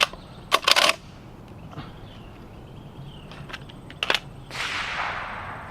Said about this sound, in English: let's load up another mag and see how this does